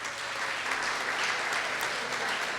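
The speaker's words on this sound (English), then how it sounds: "A big round of applause for Patrick Deering." Steady applause from a theatre audience after a play, a dense wash of clapping that holds at an even level throughout.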